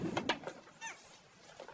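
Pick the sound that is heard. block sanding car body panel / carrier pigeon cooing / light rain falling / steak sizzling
carrier pigeon cooing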